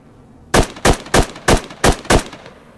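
Six sharp, evenly spaced rifle shots ring out in quick succession in the Squad pre-alpha shooter, fired at a Marine during a Taliban-versus-Marines match, each loud crack ending abruptly with no talking.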